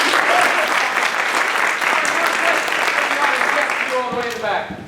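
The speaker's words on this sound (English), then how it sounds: "Round of applause," A showcase audience breaks into a loud, dense round of applause that holds steady for several seconds before starting to thin toward the end, with a few voices audible underneath.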